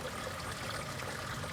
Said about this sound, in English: you'll see the water flowing because we have a much bigger 120 volt pump here.